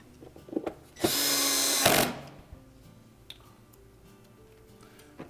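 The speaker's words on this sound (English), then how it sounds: "then reinstall the screws" A power screwdriver drives a screw into a Whirlpool washer front door cover with one loud, steady whir of about a second, followed by a few light clicks and taps of handling the panel.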